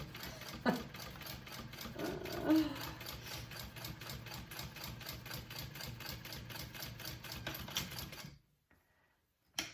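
A sewing machine fitted with a walking foot stitching vinyl for a handbag, a rapid steady mechanical chatter of needle strokes for about eight seconds that stops abruptly, followed by near silence.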